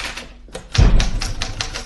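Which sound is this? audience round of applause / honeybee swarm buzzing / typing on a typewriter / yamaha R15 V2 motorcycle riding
typing on a typewriter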